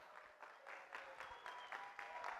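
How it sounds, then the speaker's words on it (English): Gala auction crowd clapping for donors of a New York hotel stay and airline prize, a fairly quiet, even burst of many hands in a banquet room, pulsing slightly, with no talk. "Give them a round of applause."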